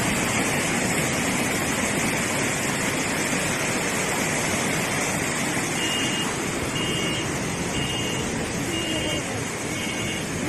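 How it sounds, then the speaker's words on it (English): Snowmelt floodwater from surrounding farmland surging toward a village's residential area, a loud unbroken wash of rushing water with a steady roar throughout and faint tonal beeps in the background. "intense snowmelt from surrounding farmland surged toward residential areas and nearly drowned an"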